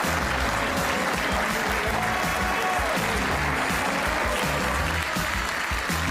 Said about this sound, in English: Please keep the applause going as we applaud our 2025 European Open champion, Joshua Filler.